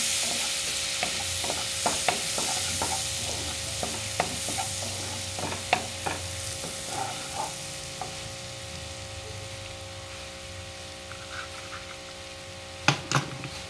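Garlic fries in a pan until golden brown, with a steady low sizzle and a run of light spatula taps and scrapes early on, then quieter frying and a couple of sharp knocks near the end.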